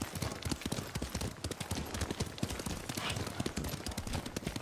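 Horse hooves clop fast and steadily on the ground while riding in the video game Ghost of Tsushima, a loud rhythmic gallop with a faint voice at moments.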